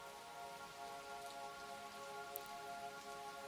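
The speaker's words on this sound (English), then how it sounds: "you can make out the gentle pitter-pattering of the rain on the windows" Gentle rain patters softly on windows, a faint, even hiss with a steady tonal hum beneath it and one small tap near the end, calm and continuous with no voices.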